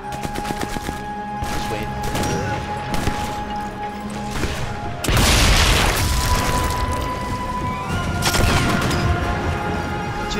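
Gunfire in Sniper Elite 4 at a winter market, with scattered sharp shots and crackling bursts in the first half, then a loud heavy blast followed by continued rapid firing.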